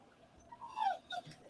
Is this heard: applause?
no